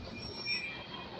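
A CSX freight train rolls past with a steady, faint rumble and a thin metallic wheel squeal, no voices over it.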